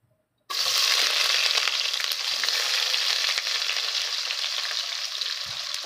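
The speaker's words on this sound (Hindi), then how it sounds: "अब प्याज को अच्छे तरीके से हम इसके अंदर फ्राई करेंगे। घी बहुत गर्म है इसलिए प्याज जल्दी फ्राई हो जाएगा इसके अंदर।" Sliced onions hit very hot ghee for an Afghani borani baingan dish and erupt into a loud, steady sizzle. The frying starts abruptly after a brief silence and carries on without a break.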